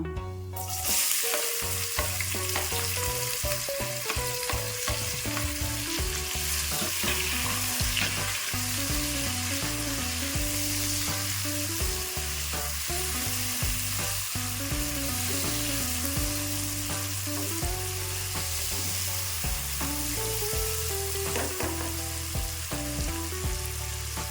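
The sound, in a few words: chopped onion frying with bay leaves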